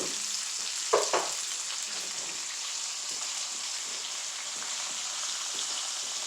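Steak nuggets fry in oil with a steady, soft crackling sizzle throughout, broken near the start by a couple of brief clinks or stirring sounds, with no one speaking.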